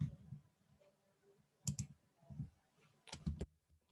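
Short bursts of clicking keystrokes on a computer keyboard, several quick clusters of taps separated by pauses, fairly close and quiet with no voices.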